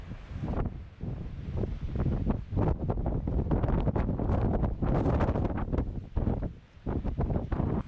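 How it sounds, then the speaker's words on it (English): Strong wind buffeting a microphone near Cerro El Caballo, a 3,011-metre peak in Spain's Sierra Nevada, during a bikepacking ride, with loud, continuous gusty roaring that dips briefly and then surges back. "It's too windy for me to stop and take out the jacket."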